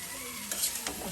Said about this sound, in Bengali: এই যে লতাগুলো এখন মশলার সাথে কষানো হচ্ছে